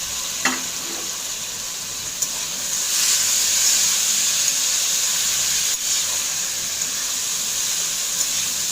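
Chopped bitter gourd and shrimp seasoned with salt and turmeric fry in a pan over medium-high heat, giving a steady, close hiss and sizzle with a few faint clicks.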